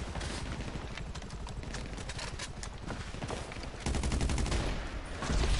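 Gunfire in GTA 5 Online keeps going without a break: dense, rapid shots crackle in a steady barrage that grows louder near the end.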